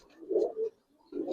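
A silver Giribaz pigeon coos close by in short, soft, low throaty bursts, two quick phrases with a brief pause between them, with no talk.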